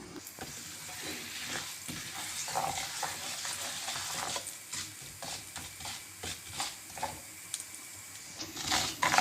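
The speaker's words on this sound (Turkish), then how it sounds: "İlk önce şehriyelerimi kavuracağım" Vermicelli toasting in hot oil in a pan, with a soft continuous sizzle broken by repeated clicking stirs and scrapes close by, and no voices.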